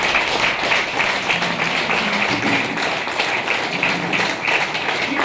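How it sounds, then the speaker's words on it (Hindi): An audience in a business seminar hall claps together in a steady, dense round of applause that holds for several seconds, loud and close. "एक बार बढ़िया वाली ताली बजनी चाहिए"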